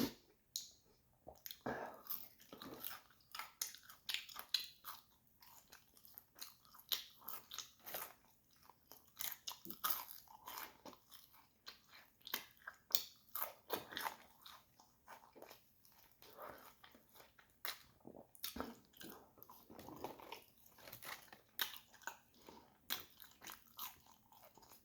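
Food coated in curry sauce is eaten at dinner in Dublin, with quiet, close crunching bites and wet chewing repeating irregularly over a long stretch.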